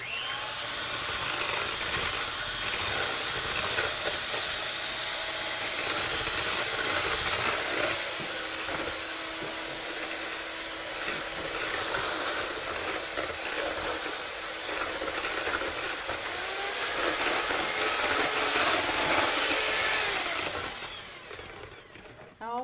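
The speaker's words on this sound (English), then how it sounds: "I've got my beater here, so I'm just going to mix this up quickly" An electric hand beater whirs steadily as it mixes eggs in a bowl for a cream kuchen. The motor drones on at close range for about twenty seconds with some light clatter, then cuts off.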